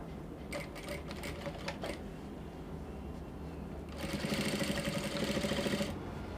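A sewing machine stitching two kimono dress collars together in two runs, a short rattling burst early on and a longer steady whir later, close and fairly quiet.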